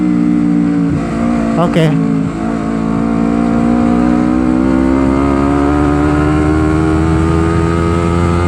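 A stock-engine Honda CBR250RR on Corsa R93 160/60 tires accelerating on a night ride, a loud close engine note rising steadily in pitch, with a rider briefly speaking early on.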